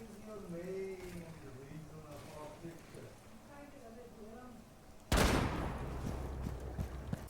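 Rainbow Six Siege gunfire: a sudden loud burst of shots erupts after several seconds of someone talking in the game, then continues as dense rattling fire.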